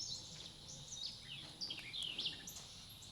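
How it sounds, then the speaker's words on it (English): Birds chirp and tweet outdoors near a farmhouse. The calls are faint and scattered over a quiet background hum, and no one speaks. "I mean, you hear the birds, but you don't hear the unit."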